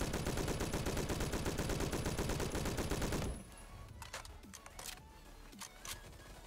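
An STG-44 assault rifle in Roblox Phantom Forces emptying a full magazine: a rapid, loud, even burst of automatic fire lasting about three seconds, then sharp mechanical clicks and clacks of the reload.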